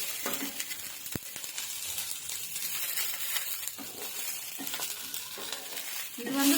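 Mint leaves sautéing in a pan for spicy mint chutney, a steady close sizzle broken by intermittent spatula scrapes and stirring clicks, with no voices.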